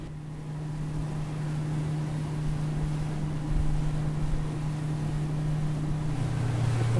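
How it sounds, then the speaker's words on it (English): A four-stroke engine on a small fishing boat runs on straight gas, a steady close drone with a low tonal hum that shifts down in pitch near the end, over wind and water noise. "it's a four-stroke, and it runs off a straight gas, and it can pretty well run off of 5 gallons of fuel all day"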